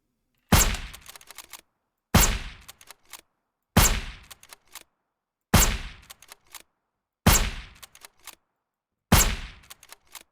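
M700 rifle gunshots from the video game Surroundead: six loud, evenly spaced single shots, each followed by brief bolt-action clicks and short echoes, separated by silence.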